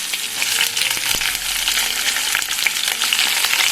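Green chillies dropped into hot oil in a pan for home-style junka curry, a loud crackling sizzle with sharp pops and a few stirring clatters, no talking.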